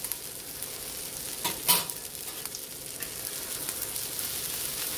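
An omelette fries in a pan with a steady, close sizzle throughout, plus a brief louder clatter and stir of the utensil partway through.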